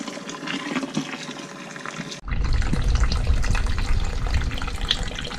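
Sparge water pours into a grain bed during homebrewing, a steady close rush of running liquid that starts abruptly and continues.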